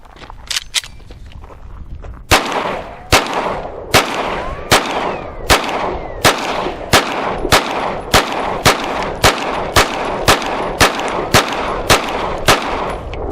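A Ruger RXM 9mm pistol fitted with a Glock magazine fires about seventeen loud, sharp shots at an outdoor range. After two quick opening shots the rest come in a steady, evenly spaced string, each with a short ringing decay.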